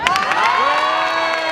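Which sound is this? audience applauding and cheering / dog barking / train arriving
audience applauding and cheering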